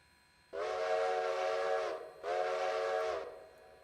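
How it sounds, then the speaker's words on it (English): A steam locomotive whistle in the railroad game Railroader gives two long, loud, bright blasts with a short gap between them over a low background hiss. "Where's our whistle?"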